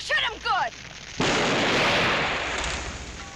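An old cannon fires a single loud booming blast that rumbles and decays over about two seconds, following brief shouted voices.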